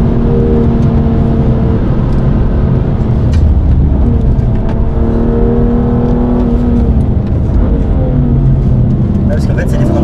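A BMW M car is driven at full throttle on a drying race track during a trackday, its engine droning loud and steady from inside the cabin with rising and falling revs, while occupants talk over it.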